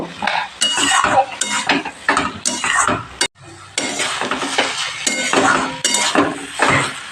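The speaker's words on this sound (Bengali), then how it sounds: "এবার আমি ভালো করে অনেকক্ষণ ধরে নেড়ে নেব" Papaya curry (ghonto) being stirred in a pan, with repeated loud spoon scrapes and clatter against the pan in uneven strokes, briefly pausing midway.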